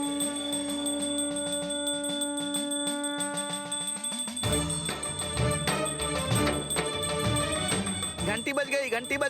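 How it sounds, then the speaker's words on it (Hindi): A temple-style bell for an aarti rings in rapid repeated strokes, then louder clanging joins with a fuller metallic ringing and busy background sound as the ritual begins. "घंटी बज गई, घंटी बज गई।"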